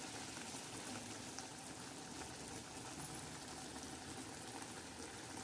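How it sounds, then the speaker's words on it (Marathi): A thin fenugreek leaf curry with ground peanuts simmers in a lidded pot, producing a steady, even bubbling hiss with no pauses and no one speaking. "बघा आता मस्तपैकी आपली भाजी शिजत आहे"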